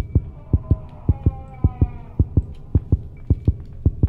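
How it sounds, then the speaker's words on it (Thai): Steady heartbeat thumps from the horror game Granny 2, a loud, regular lub-dub rhythm of about a dozen deep beats with a faint hum underneath and no talk. "มันมีเสียงหัวใจเต้น"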